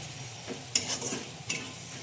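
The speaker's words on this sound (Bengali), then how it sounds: "এবার গোটা গরম মশলা ফোড়ন দিয়ে দিলাম" Whole garam masala spices, including cloves, cardamom, nutmeg and mace, sizzle in hot oil, a quiet, steady frying hiss broken by a few short stirring scrapes and clicks against the pan.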